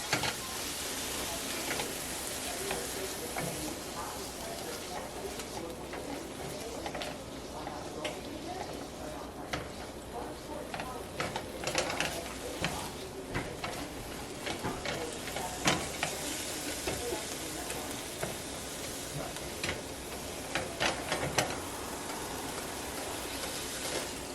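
Minced garlic and onion sizzle steadily in a hot pan, a continuous broadband crackle with scattered louder pops, while a person talks over it throughout.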